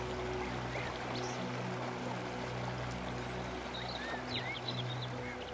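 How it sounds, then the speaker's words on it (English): A gushing river rushes through a valley in the Rif Mountains of Morocco, a steady, broad watery roar that holds constant throughout, with a few faint bird chirps above it. "A gushing river cuts through the stunning valley."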